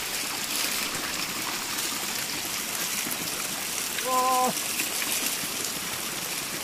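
Steady broadband rush of a cold hill stream flowing, continuing throughout with a brief tonal chirp near the end.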